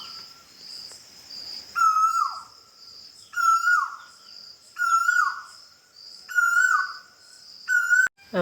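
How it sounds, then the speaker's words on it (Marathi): An Asian koel calling from a tamarind tree in a village at dawn, with about five repeated rising calls at a steady pace over faint insect chirring. "हे पहा कोकिळ ह्या चिंचेच्या झाडावर, इथं पाठीमागच्या झाडावर कू कू कू"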